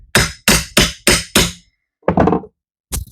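Hammer blows strike a nailed ceiling board in a tiny house, five sharp evenly spaced knocks followed by two more after short pauses, close and loud.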